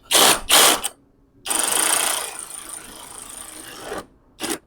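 An OSUKA cordless electric ratchet driving a motorcycle nut: two short buzzing bursts, then a longer steady whirring run, and a final brief burst, loud and close.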